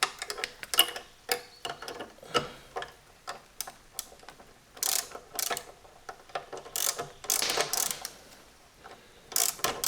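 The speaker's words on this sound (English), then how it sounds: "All right, I found a 7/16 wrench and that works well." A 7/16 wrench tightening a nut while a backrest is fitted to a 2022 Harley-Davidson Road Glide, giving close, irregular ratcheting clicks in short bursts with pauses between.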